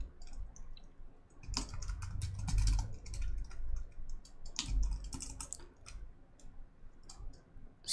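Code being typed on a computer keyboard, a close, fairly quiet run of irregular key clicks and taps in bursts, with no talking.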